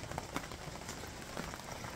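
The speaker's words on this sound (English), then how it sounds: "I didn't think it was going to rain this much" Steady rain patters on the canvas of a pop-up camper at a state park campsite, a soft continuous hiss with occasional heavier drops, no voices.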